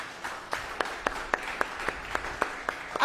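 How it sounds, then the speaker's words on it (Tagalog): A Filipino church congregation claps for Jesus during a Sunday sermon, a rhythmic series of about a dozen distinct, evenly spaced group claps over a soft background bed, picking up slightly at the end. "bigyan mo ng the best na palakpak si Jesus"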